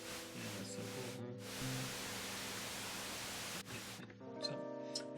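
The noise source of a Novation Bass Station II synthesizer, a steady hiss of broadband noise with faint tonal notes underneath, fairly quiet and continuous with brief dips before it fades into sparse tones.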